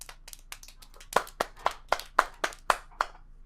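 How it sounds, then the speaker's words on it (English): Sparse, slow hand clapping in the PC game Steins;Gate, about a dozen crisp claps at an even pace, a few people at most, over a faint steady hum. "enters to sparse applause"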